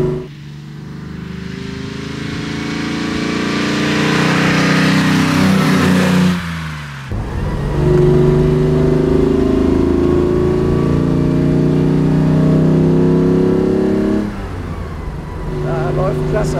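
A 1960 Mercedes 300 SL Roadster's engine drones steadily while driving, swelling as it pulls, briefly dipping around a gear change, then surging again with a strong harmonic growl, close and loud throughout.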